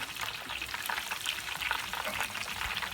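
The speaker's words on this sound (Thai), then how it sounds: "กุ้งชุบแป้งทอดลงไปทอดในน้ำมัน" Batter-coated shrimp deep-frying in hot oil give off a dense, steady crackling sizzle, close and constant without pauses or speech.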